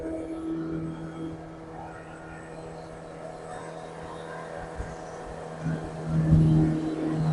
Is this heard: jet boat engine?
yes